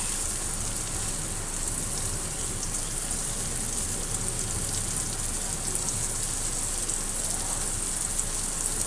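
Egg and coriander leaves cooking in a frying pan, giving a steady, dense hiss of sizzling oil that stays even throughout, close and fairly loud, with no talking.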